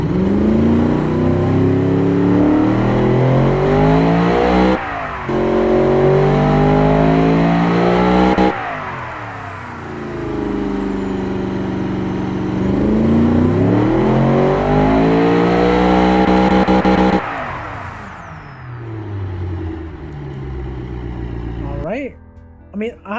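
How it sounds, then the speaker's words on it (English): A car engine revs up repeatedly, rising in pitch with each throttle push and falling back, loud and close, then dies down near the end. "I'll have to say the engine noise is actually beautiful."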